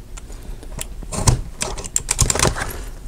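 Several sharp clicks and snaps close by, irregular and quick, as a hole punch bites through fabric.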